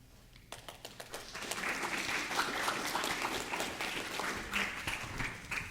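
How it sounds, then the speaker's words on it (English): An audience at a health science student presentation claps as a program director comes forward; a few isolated claps start it off before a steady, moderately distant round of applause fills the room and carries on to the end. "I always love when people clap before you even hear what I have to say"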